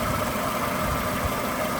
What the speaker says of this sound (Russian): звук у двигателя нормальный, то есть постороннего шума нет